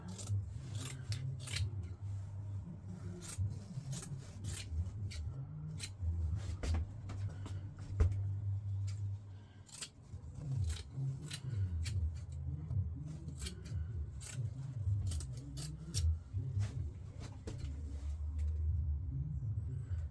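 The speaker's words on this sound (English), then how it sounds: "these corners don't do us any good, so we'll just cut them off" Scissors cut through upholstery fabric corners for the seats of a 1995 Honda Acty, with repeated sharp snips and rasping rubs close by over a low rumble.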